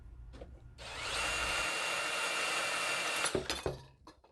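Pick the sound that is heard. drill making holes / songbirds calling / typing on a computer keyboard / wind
drill making holes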